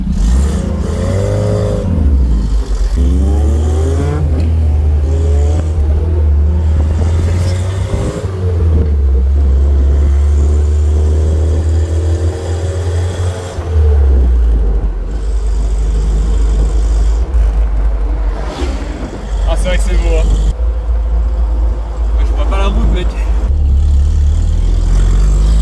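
A unique collector convertible pulls away and accelerates hard, its engine climbing through rising revs with gear changes, loud and close throughout, with road whir and a little clatter beneath.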